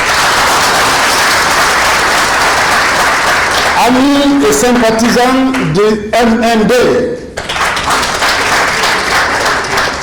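Continuous crowd applause at the MND political party's 2020 national convention, loud and sustained, with someone speaking into a microphone over it midway before the clapping carries on alone.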